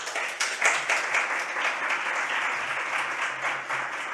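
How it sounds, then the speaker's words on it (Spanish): An audience applauds a panel at a tourism conference, with steady, dense clapping that holds at an even level throughout. "Un aplauso para la mesa."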